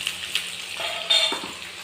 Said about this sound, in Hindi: यहाँ पे आलू डाल रही हूँ मैं फ्राई करने के लिए